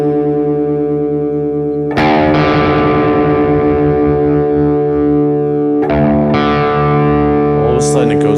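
Electric guitar with two sustained notes clashing slightly out of tune while being tuned down to drop D, producing a steady wavering beat; the strings are re-struck twice, loud and close.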